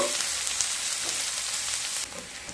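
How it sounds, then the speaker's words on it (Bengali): Onion and large white garlic cloves fry together in a pan with a loud, continuous crackling sizzle close by, easing slightly toward the end. "পেঁয়াজ আর রসুন খুব ভালোভাবে ভেজে নেব।"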